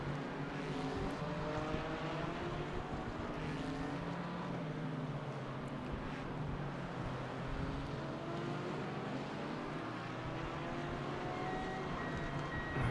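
Race car engines drone steadily on a formation lap at Laguna Seca in Gran Turismo 4, several cars rising and falling in pitch together as they round a gentle corner, fairly quiet and with no talk.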